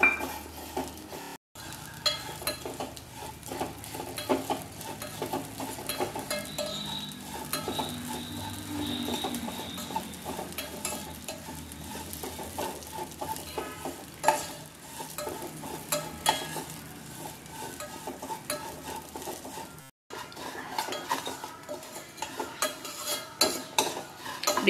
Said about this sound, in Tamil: இப்படி நல்லா பொன்னிறம் வர வரைக்கும் வறுத்துக்குங்க.